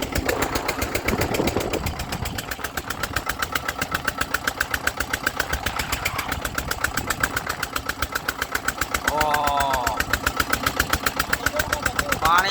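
Boat engine at sea during a Nariyeli Punam outing, a steady rapid mechanical chugging running throughout, loud and close, with voices talking over it now and then.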